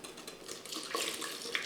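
Milk poured gradually into a mixing bowl for a rice pudding custard, a soft, faint liquid trickle and splash lasting under two seconds with no voices.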